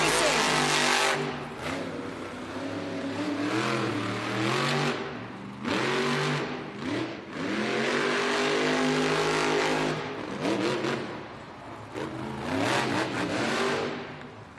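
Monster Jam monster truck engines roar and rev hard during an arena race, repeated surging bursts of deep engine noise rising and falling, with an announcer talking over the din.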